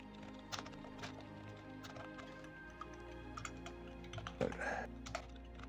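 Keystrokes on a computer keyboard while entering field names into a new Excel sheet, a steady patter of close, light clicks with a few louder bursts of quicker typing near the end.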